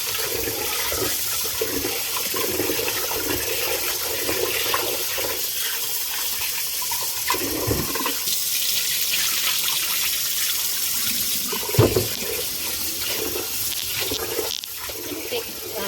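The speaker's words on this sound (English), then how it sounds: "I'm just going to keep washing this until it runs clear" Tap water running steadily as long grain sweet rice is washed in a bowl until the water runs clear, a continuous splashing flow with occasional louder sloshes.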